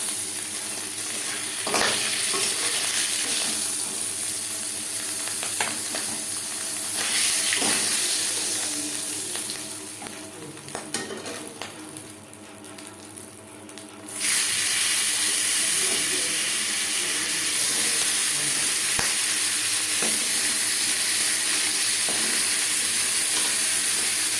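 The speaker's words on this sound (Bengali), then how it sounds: "পরের মাছের মাথা একইভাবে ভেজে নেব।" Continuous sizzle of rohu fish heads frying in hot oil in a kadai, with occasional scraping taps of a utensil; the crackle dips quieter midway, then surges back loud and steady.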